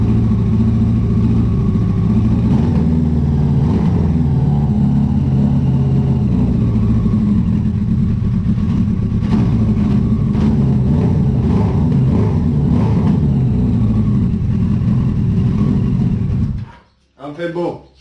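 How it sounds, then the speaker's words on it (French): A Yamaha R1 motorcycle fitted with a cheap aftermarket exhaust runs loud and close, its engine rumbling and revving with crackling pops for about sixteen seconds before cutting off abruptly near the end. "Pétarade un petit peu."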